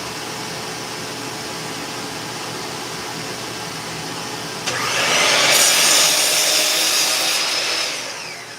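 A power saw cuts wood for sound diffusers. A steady motor hum runs first, then a louder, harsher cutting roar takes over for about three seconds and fades. It is close and dominant, with no talking.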